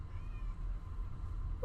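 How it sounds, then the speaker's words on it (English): A pet cat meows briefly near the very end, a short mid-pitched cry over steady low room hum, with no one talking. "Oh, my cat's with me."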